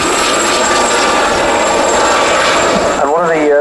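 Steady, loud whirring rotor and engine noise from Gazelle helicopters flying in formation at an air display, continuous throughout with a commentator's voice talking over it.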